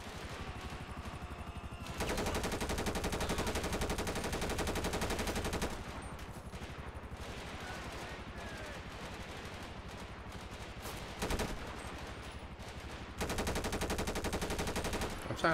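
Sustained bursts of automatic gunfire rattle through a GTA 5 firefight aboard a modded CV-16 aircraft carrier, with loud dense stretches of rapid shots broken by quieter pauses and a sharp blast near the end.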